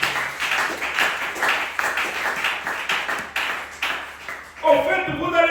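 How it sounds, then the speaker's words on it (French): Church congregation at a Tuesday worship service claps for the Lord in a steady rhythmic beat, many hands together at moderate distance, with voices mixed in and a brief musical tone rising at the end. "Applaudissez pour le Seigneur."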